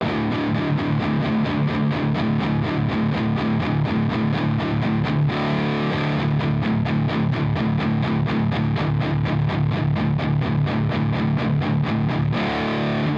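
Heavily distorted electric guitar chugging in tight, fast palm-muted rhythm, loud and continuous, with a brief shift in tone about midway as the tone is rolled off.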